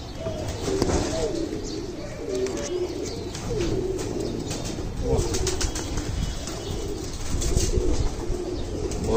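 A grey pigeon coos in low, repeated phrases close by, with soft wing flaps and rustling amid background noise and faint voices, in a pigeon-keeping setting in Habiganj, Bangladesh.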